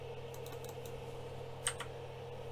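Soft keystrokes tap on a computer keyboard during 3D printer setup, a few quick light clicks in short irregular clusters over a steady low electrical hum, faint and close with no talking.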